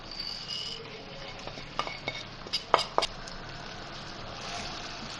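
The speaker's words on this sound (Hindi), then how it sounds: "टमाटर का पेस्ट मिक्स करेंगे इसको" A spoon stirs spices into tomato paste in a pan for aloo matar sabzi. It makes faint, scattered metallic clinks and scrapes over a quiet hiss, with a cluster of sharper taps near the middle.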